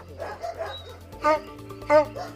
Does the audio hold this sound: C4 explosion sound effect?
no